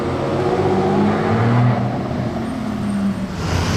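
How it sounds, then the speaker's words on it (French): An Audi RS6 with a Capristo exhaust passing at close range, a deep, heavy engine rumble with a brief rise in revs, set against street traffic noise. "Un bruit très lourd celle-ci avec son échappement Capristo."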